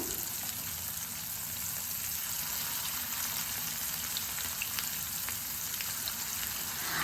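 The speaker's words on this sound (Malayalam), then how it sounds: "മസാല പുരട്ടി മാറ്റി വെച്ചിട്ടുള്ള ഫിഷ് ഓരോന്നായിട്ട് എടുത്ത് നന്നായിട്ട് തന്നെ ഫ്രൈ ചെയ്തെടുക്കാം" Masala-coated fish pieces fry in a pan with a steady, soft sizzle and small scattered pops, heard alone and fairly quiet throughout.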